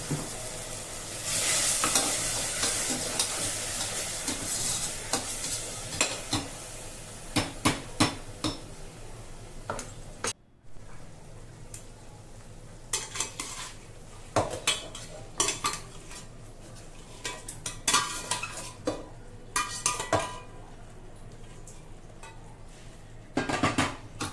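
Chicken pieces frying in a pan with pureed tomato for chicken pulao, stirred with a metal utensil: steady sizzle under repeated scraping and clinking, with a brief drop near the middle before the stirring resumes.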